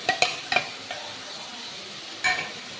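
A spoon scrapes and stirs onions frying in a pan for an oyster mushroom kootu, with a few sharp clinks against the metal at the start and again near the end over a steady background sizzle.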